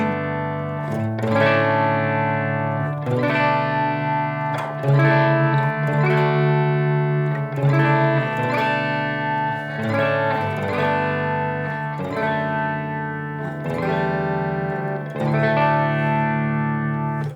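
Acoustic guitar in DADGAD tuning, strummed chords ringing with open strings, several rhythmic strokes letting notes sustain and overlap, heard alone without talking.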